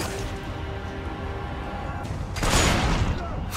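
Gunfire in the Army of Two: The 40th Day co-op video game, a dense burst of loud shots over a continuous noisy battle soundscape that swells louder near the end.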